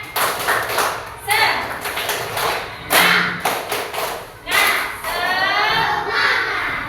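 Children do a rhythmic spirit-clap cheer in a primary school lesson, several bursts of group clapping with thumps, and a teacher's and children's voices between them.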